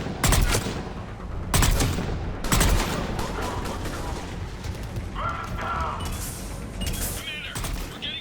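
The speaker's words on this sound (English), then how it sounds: "Commander, we're getting a lot of mortar fire." Mortar and gunfire in the video game Mass Effect 3: a battlefield of repeated heavy booms and bursts, three loud impacts early then a dense continuous rumble of fire with scattered shots, voices faintly in the mix.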